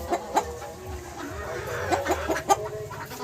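Pure desi chickens clucking nearby, a series of short, sharp clucks and squawks coming in irregular bursts over a steady low background.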